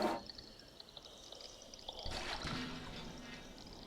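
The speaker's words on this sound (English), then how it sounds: "Sounds like water down there." Water running and splashing somewhere below in the video game Stray, a steady wash of trickling and pouring that swells slightly halfway through and continues alone without speech.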